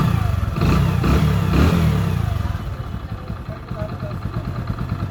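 A Hero Splendor i3s disc-brake motorcycle engine starts and runs nearby, a loud throaty rev settling into a steady putter, with someone talking over it.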